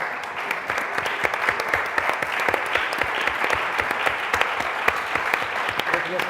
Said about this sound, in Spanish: Por tanto, un gran aplauso.